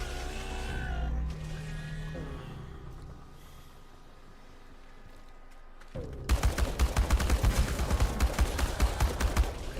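Kalashnikov rifle fire in the video game ChernobyLite erupts after a quiet stretch, a rapid run of sharp, loud shots hammering steadily through the final few seconds.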